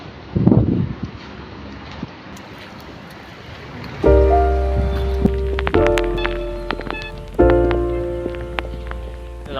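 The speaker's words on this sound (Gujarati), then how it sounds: "ફૂલ વરસાદ બહાર ફૂલ વરસાદ" Heavy rain pours outdoors as a steady broadband rush, with an early gusty burst; from midway, loud tonal music plays over and partly masks it.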